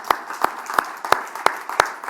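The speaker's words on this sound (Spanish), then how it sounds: "¿Cuántos pueden darle un aplauso a aquel" Church congregation applauding in rhythm, steady synchronized claps about three per second, moderately close and filling the room.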